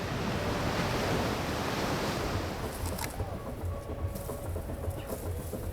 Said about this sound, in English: So this is the second biggest falls in this Congo River.